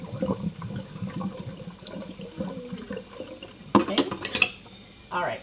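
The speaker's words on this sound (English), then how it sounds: "I'm going to empty out some of this water. I put too much water in the sink here." Water drains from an overfilled kitchen sink with gurgling and splashing, mixed with clinks of dishes and cutlery nearby, moderately loud and with no talking.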